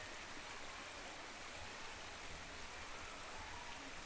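Creek and waterfall at McCormick's Creek State Park in Owen County, Indiana, a steady rushing wash of flowing water, even and unbroken, heard fairly faint from a short distance with no voices.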